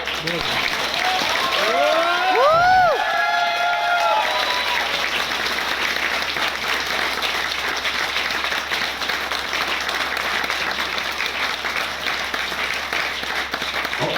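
Audience applause during a motivational speech by a film actor: dense, sustained clapping from a large crowd throughout, with a brief voice rising over it early on.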